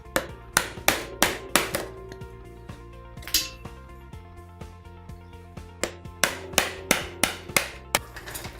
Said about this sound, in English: using your chisel and your mallet, simply notch out that section of wood